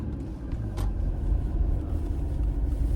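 A car drives along a country road, its low steady rumble of engine and tyres continuing without a break, no voices.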